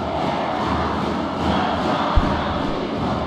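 Volleyball arena crowd at a Superliga semifinal between Praia Clube and Osasco, a steady roar of massed voices pressuring the server, with one sharp thud partway through.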